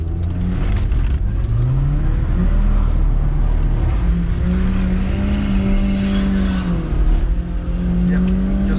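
An automatic car with no limited-slip diff spins a single wheel, the engine revving hard in a loud, sustained rising and falling drone close by, with some tire noise and no talk over it.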